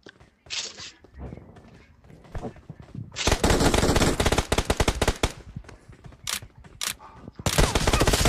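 Gunfire in the battle royale video game PUBG crackles in sharp single shots and then long rapid automatic bursts, loud and close, with short pauses between volleys.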